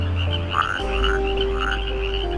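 Frog croaking by a pond, a series of three or four rhythmic croaks over a sustained tone and low background music, clear and close.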